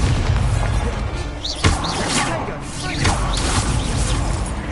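Incendio fire spell bursts in Hogwarts Legacy, a sharp whooshing flare with a thud near the middle, set against constant game music and ambient noise.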